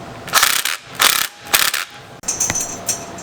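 An impact wrench tightens the clutch bolt on a go-kart, firing several short, loud mechanical bursts spaced by brief pauses, with a rattling, ratchet-like clatter up close.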